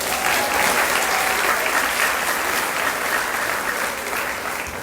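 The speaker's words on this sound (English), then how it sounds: "So please give them a big round of applause." Steady, dense applause from an audience at a festival queen pageant, honoring the contestants, sustained and fairly loud throughout with no break.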